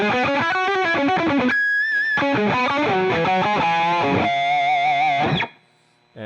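Electric guitar through a Friedman BOD distortion pedal, a fast riff of gritty notes with a held squealing bend, ending abruptly in near silence.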